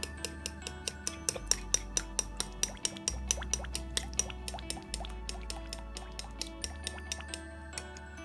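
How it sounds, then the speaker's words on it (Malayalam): Sunflower oil and milk are mixed in a bowl for a cake batter, giving quick, evenly spaced clinks and taps of a utensil against the bowl over a low steady hum, with no voices. "എന്നിട്ട് ഇതൊന്ന് നമുക്ക് മിക്സ് ചെയ്ത് കൊടുക്കാം."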